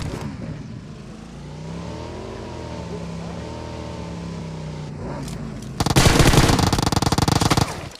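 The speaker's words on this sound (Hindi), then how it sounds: "शॉट पड़ते हैं" Gunfire in the PUBG video game: a steady motorbike engine drone gives way to a loud, dense burst of rapid automatic shots lasting about two seconds.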